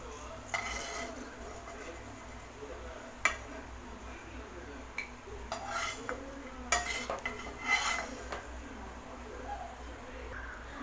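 Ghee-roasted raisins and cashews scraped from a pan into a bowl for rava laddu, soft clinks and scrapes of a spoon against cookware with faint sizzling, close and fairly quiet.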